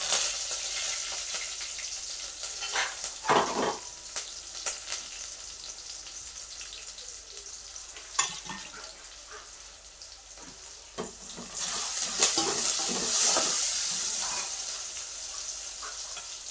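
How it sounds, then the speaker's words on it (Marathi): Mustard seeds, chopped onion and curry leaves fry in a hot pan for a Maharashtrian pitla, giving a steady crackling sizzle with louder bursts of spluttering and some clatter, with no voices. "टाकायची मोहरी, नंतर टाकायचा कांदा, कढीपत्ता,"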